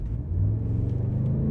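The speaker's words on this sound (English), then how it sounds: "if I put it in dynamic mode, wherever that's gone on this enormous touchscreen, get a little bit more exhaust noise" Range Rover Sport SV in dynamic mode, its exhaust giving a steady low rumble that swells slightly as the engine pulls, heard from inside the cabin with no talking.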